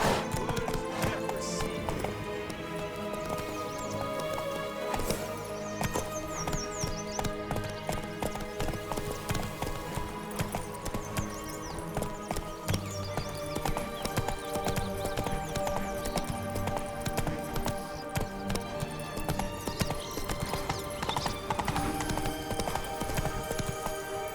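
Horse hooves clip-clop in a steady rhythm during riding in the video game The Witcher 3 on PS5, with an occasional neigh, layered over dense music throughout.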